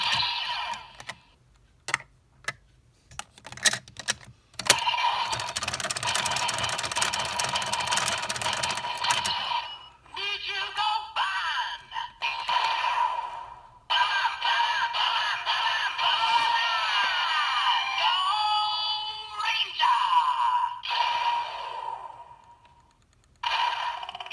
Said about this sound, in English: Techno sound effect